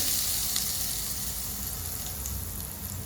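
A steady, loud sizzle of spices hitting hot oil for a chutney tempering, crackling continuously from start to finish at close range.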